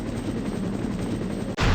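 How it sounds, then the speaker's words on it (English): Rapid gunfire and rotor-like chopping from an attacking helicopter during a video game boss fight, a dense continuous roar that cuts off abruptly near the end before a brighter burst of noise. "Here comes the helicopter."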